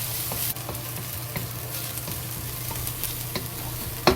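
Garlic, ginger and scallion fry in hot oil with a steady, close sizzle, punctuated by light scrapes and taps as the pan is stirred; no talking.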